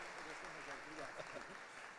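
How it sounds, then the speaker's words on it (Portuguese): Church audience claps for the actors of a Moses stage play, a steady mass of applause with a voice speaking over it partway through. "Uma salva de palmas para os nossos atores aqui"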